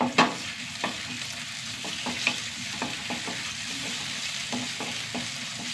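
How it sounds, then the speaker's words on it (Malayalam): Crushed ginger and garlic fry in a pan with a steady, close sizzle, broken by a scatter of sharp clicks and scrapes from stirring; no voices. "ഇഞ്ചി വെളുത്തുള്ളി ഒന്ന് മൂത്ത് വരട്ടെ"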